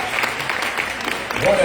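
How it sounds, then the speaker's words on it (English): Audience applause closing a community panel on breaking the cycle of violence, a short steady patter of clapping that swells slightly toward the end, with a brief tonal sound near the close. "let's give them all a round of applause"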